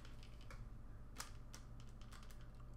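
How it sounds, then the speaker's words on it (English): A video game character types on a computer keyboard, a quick run of light key clicks with a few sharper taps, close and fairly faint, with no talk. "Just enjoy her typing away on the computer."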